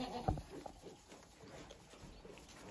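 Young goat kids on a farm give a brief bleat amid faint barnyard rustling and shuffling, fairly quiet and close.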